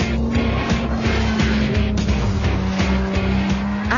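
Lotus Exige sports car driven hard on a race track, its engine droning loud and close with a steady pulsing rhythm, with brief tyre squeal and no talking over it.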